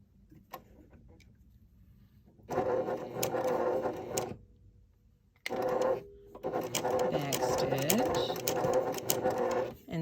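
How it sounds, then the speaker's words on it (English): A sewing machine stitches a fabric drawstring bag in two sustained runs of rapid whirring, the second longer, with quiet pauses and faint clicks between them. "And sew to the end."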